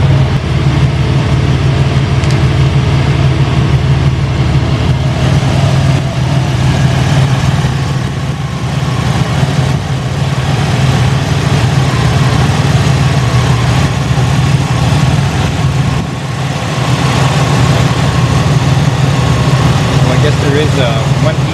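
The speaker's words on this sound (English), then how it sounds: "we're going to open up the hood here and let you guys see the engine run." Buick GNX turbo engine idling with the hood open, a steady low rumble that stays continuous and fairly loud throughout, with faint background noise layered over it.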